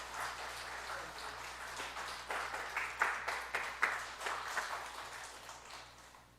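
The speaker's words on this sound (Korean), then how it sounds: "제가 나눠드릴 때 여러분들 박수로 우리 축하해 주시기 바랍니다" A church congregation at a Sunday worship service claps in celebration, a soft, scattered patter that builds into denser, clearer bursts midway before thinning again, heard from a moderate distance over a low steady hum.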